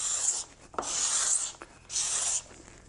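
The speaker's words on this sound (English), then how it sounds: "you see that sharpened putty knife just cuts that CA glue off" A sharpened putty knife scrapes hardened CA glue flush off a wooden puzzle surface, giving three close, raspy strokes separated by short pauses, with a faint tap between the first two.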